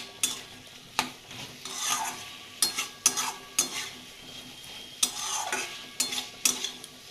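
Spices with Kashmiri chilli and a little sugar being stirred and fried in a pan for a mocha ghonto (banana flower curry), with a spoon scraping and tapping the pan in repeated strokes over a soft sizzle.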